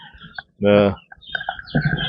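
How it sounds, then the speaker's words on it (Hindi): Chickens at a tribal farmhouse in a Madhya Pradesh village, where livestock is also kept; a loud, harsh squawk bursts out near the middle, close by, with faint voices and farmyard noise around it. "और यहाँ इस तरफ में मुर्गियां हैं,"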